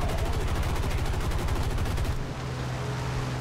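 Aircraft machine guns on a P-40E-1 Kittyhawk fire in War Thunder, a loud, rapid burst of rattling shots over a roaring engine, the firing stopping after about two seconds while the engine noise continues.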